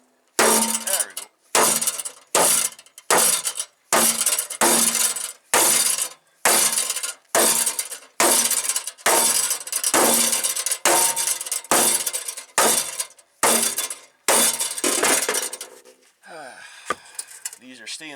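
Sledgehammer blows on a stiff stainless steel truck fender, about fourteen loud, sharp metallic strikes in a steady rhythm, each ringing briefly before the next.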